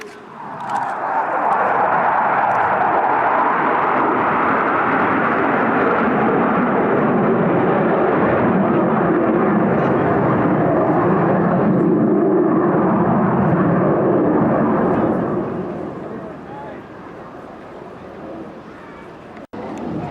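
A Sea Vixen jet aircraft roars past at an air festival in Bournemouth, loud and sustained for about fifteen seconds before fading away, with a broad rushing engine noise throughout.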